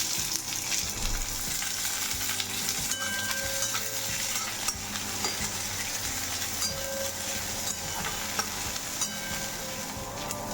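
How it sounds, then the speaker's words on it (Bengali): Chopped garlic and onion fry in hot oil, a continuous close sizzle with steady stirring scrapes and occasional utensil clinks, no voices. "পেঁয়াজটা দেখো বেশ লাল লাল করে ভাজা হয়েছে"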